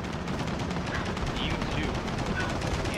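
A machine gun nest in Gears of War 4 fires a steady, rapid stream of loud automatic bursts that run unbroken for the whole stretch, with a dense battle din behind it.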